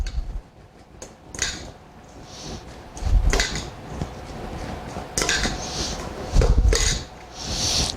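A spoon stirs ceviche in a bowl, scraping and clinking against the sides in short bursts with quiet pauses between them.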